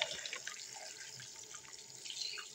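Water runs steadily from a tap into a sink while fidget toys are washed, a soft, continuous splashing trickle with faint drips and no talking.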